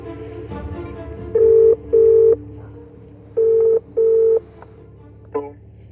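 Mobile phone keypad tones at the entrance gates of an old family country house, four distinct loud beeps in two pairs with a short faint blip at the end, over quiet background.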